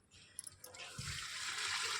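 A jug of water poured onto a jasmine plant in a home garden, a brief thump then a steady close splashing and trickling stream that grows and holds for the rest of the moment.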